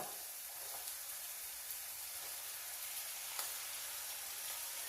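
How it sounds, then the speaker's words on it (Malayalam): Sliced onion, tomato and curry leaves fry in a pan with a steady, fairly quiet sizzle and hiss that carries on without a break. No one speaks. "മുറിച്ച് വെച്ച സവാള തക്കാളി കുറച്ച് കറിവേപ്പില ഇട്ട് കൊടുക്കാം"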